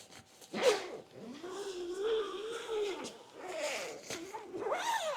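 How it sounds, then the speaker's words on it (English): A zipper is pulled shut on a fabric Tesla Cybertruck bed cover: several close, quiet rasping strokes in short bursts, separated by pauses. "all you gotta do is zip it back in place."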